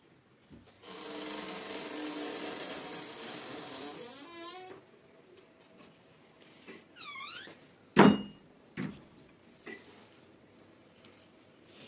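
A sewing machine stitches a blouse sleeve to the shoulder in a close, continuous whirring run lasting a few seconds, then stops, followed by several clunks and knocks of fabric and machine handling.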